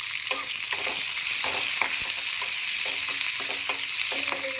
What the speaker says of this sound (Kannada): ಕರ್ಬೇವಿನ ಸೊಪ್ಪು ಹಾಕಿದ್ಮೇಲೆ ಈರುಳ್ಳಿ ಹಾಕ್ಬೇಕು.